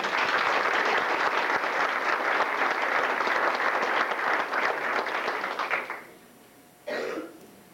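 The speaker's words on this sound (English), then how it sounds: "Would you just stand up and take a little applause for your hard work, please?" Audience applause for coaches at a coaches association gathering, loud steady clapping that fades out around six seconds, followed by a single short cough.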